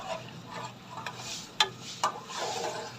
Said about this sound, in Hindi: इसको 10 मिनट पकाना है और मुसलसल हिलाते रहना है